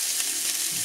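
Sea bass frying on a grill gives a steady, close crackling sizzle, a continuous bright hiss with no voices over it.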